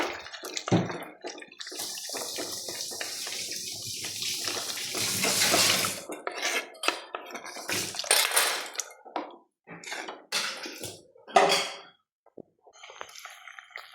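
Hot water pours into a cooking pot for a curry, a splashing, gurgling stream at first, followed by scattered clinks, drips and handling noises.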